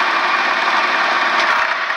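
An Elgin lathe runs steadily with a continuous mechanical whir and faint ticking, loud and close throughout, with no voices.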